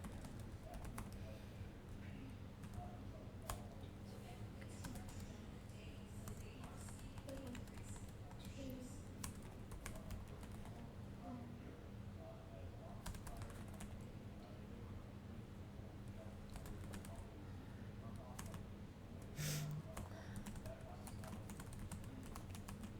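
Computer keyboard typing runs steadily through the scene, with clustered key taps over a constant low hum and brief background noises.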